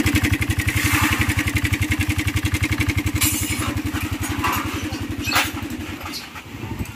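A motorcycle with a worn timing chain idles close by, its engine beating in a steady, even pulse, with a faint ticking rattle riding over the thrum and a couple of brief clacks near the end.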